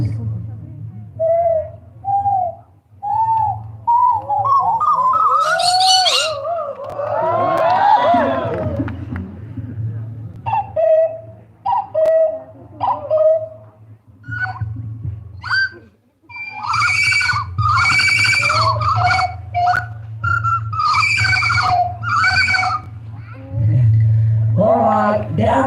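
A human voice imitates owl calls, hooting and warbling in bursts at a Christmas night gathering in Arunachal, while a crowd responds with cheering and clapping over a low steady hum.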